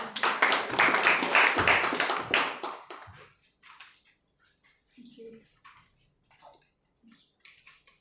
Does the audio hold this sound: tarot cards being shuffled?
no